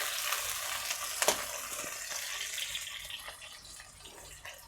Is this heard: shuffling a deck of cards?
no